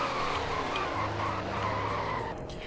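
A car in the Roblox game Greenville brakes hard, its tires squealing in a continuous loud skid that holds steady and tails off slightly near the end, with engine drone beneath and no talk.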